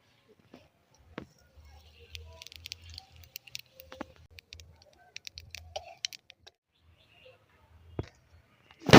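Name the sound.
whole cumin seeds sizzling in hot mustard oil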